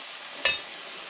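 Rabbit pieces browning in their overnight marinade in a pan over lower-than-medium heat give a steady soft sizzle, with one brief louder hiss and crackle as the meat shifts.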